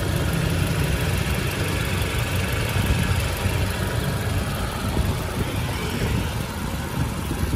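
2015 Mazda CX-5 with a 2.0 engine idling, a smooth, even low hum heard up close and steady with no voices.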